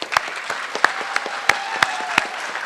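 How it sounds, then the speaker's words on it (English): Scattered applause at an eighth grade school recognition ceremony, with a few loud individual claps standing out over a thin, quieter crowd clapping for about three seconds. "So another round of applause for them."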